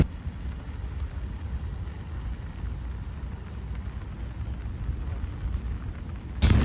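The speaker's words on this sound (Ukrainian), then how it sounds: "Дощ починається." Steady rain begins falling outdoors on a summer day, a dense, even hiss with low rumble that holds at a constant level throughout, with no talking.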